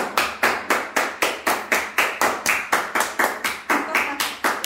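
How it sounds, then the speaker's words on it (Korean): An audience claps in unison for a chemistry teacher, sharp rhythmic claps at an even, steady beat of roughly three per second, close and loud, with no speech over them. "박수!"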